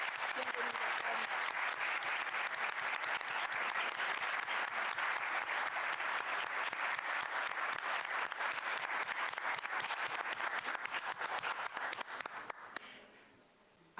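An audience at a book presentation applauds warmly, dense steady clapping that holds for about twelve seconds before tapering off to a few last claps.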